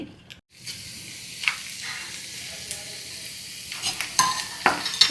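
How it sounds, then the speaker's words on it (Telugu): Tempering spices dropped into heated oil in a pan, a steady close sizzle and hiss that carries on evenly, broken near the end by a few sharper spoon scrapes and clinks. "ఆయిల్ అయితే కొంచెం వేడవ్వాలండి ఫస్ట్ పోపు వేసుకోవాలి"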